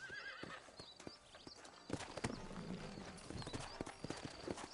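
Horse hooves clip-clop at a steady trot in the video game Red Dead Redemption, with an occasional whinny and snort over a busy outdoor town background.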